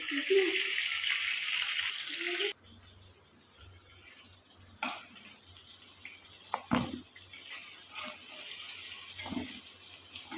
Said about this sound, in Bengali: এদিকে তো বেগুন ভাজা হচ্ছে, তোমরা দেখতেই পাচ্ছ